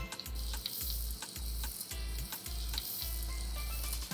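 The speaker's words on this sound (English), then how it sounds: "Time to add in washed red rice" Washed red rice goes into a hot pot of tomato puree, a close sizzle and frying hiss beneath a regular repeating low thump from stirring, with no talking.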